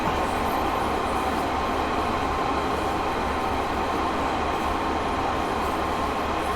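Train in a railway video game approaching Truro, a continuous loud low rumble of wheels and engine rolling steadily along the track with no talk.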